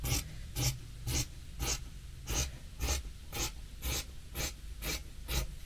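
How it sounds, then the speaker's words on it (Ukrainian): Scissors cut fabric for a blouse with a bow in a steady series of about a dozen crisp snips, close and evenly spaced, with nothing else underneath. "тут у мене там нерівно трошечки тканина вирізана, тут обрізаю"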